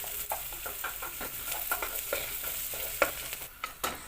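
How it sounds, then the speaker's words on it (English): Ginger garlic paste stirred with onions in a pan, soft repeated scrapes and taps of a spoon over a quiet sizzle of frying, fairly faint and close, without speech. "Then give it a really good stir."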